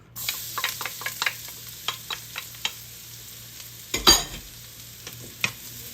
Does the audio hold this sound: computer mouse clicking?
no